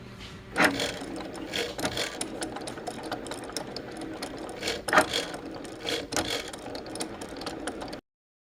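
A cutting machine slices heat transfer vinyl with a steady whirring, clicking mechanical motor sound, interrupted by a few sharper clacks as the carriage changes direction; no talking.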